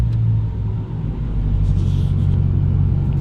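Dodge Hellcat Redeye engine giving a deep, steady low rumble close by, continuous with slight swells in level.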